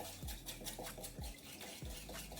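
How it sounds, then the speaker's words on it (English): Matcha powder being whisked with water by a whisk, giving close, soft swishing strokes that repeat in a steady rhythm, heard alone without talk. "then we take our whisk and just give it a quick whisk"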